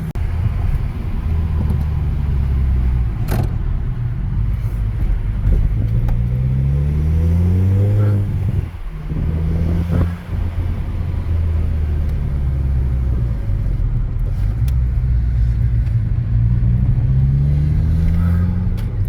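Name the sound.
Golf V GTI engine revving with dump valve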